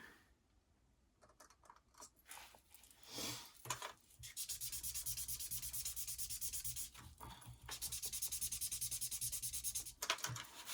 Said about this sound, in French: Je frotte. Au maximum mes tampons.